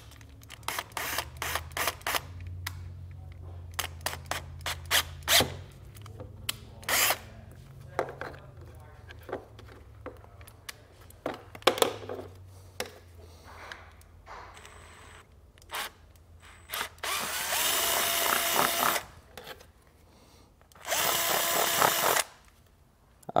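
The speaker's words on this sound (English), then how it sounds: "We'll go ahead and drill this out here." A power drill whirs in two sustained bursts near the end, drilling a hole during a trailer brake controller installation on a 2024 Kia, after a stretch of scattered clicks, taps and handling noises.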